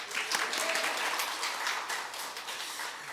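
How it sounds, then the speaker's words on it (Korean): A Sunday worship congregation applauds the choir after a hymn, a full, continuous round of clapping that thins slightly toward the end. "하나님께 영광의 박수 올려드릴까요"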